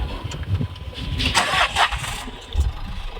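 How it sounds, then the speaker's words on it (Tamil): A car engine cranks and catches in a short, whirring burst, then settles under steady background noise. "முதல்ல இப்போ என்ன பண்ணணும்னா, இன்ஜின் ஸ்டார்ட் பண்ணிக்கணும்."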